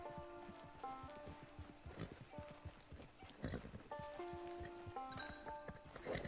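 Horse hooves clip-clop at a walking pace in Red Dead Redemption 2, a steady run of close hoofbeats under game music and ambient sound.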